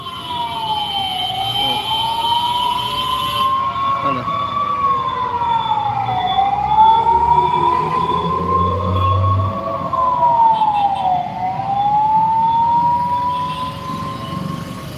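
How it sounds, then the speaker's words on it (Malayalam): An ambulance siren wails continuously through a heavy traffic jam at Kottiyam, Kollam, its rising and falling tone loud and steady over a constant rumble of idling road traffic. "ചെറിയൊരു ആംബുലൻസ് എന്നിട്ട് പോലും അതിന് വരാൻ വയ്യാത്തൊരു സ്പേസ് കിട്ടുന്നില്ല അതിന്"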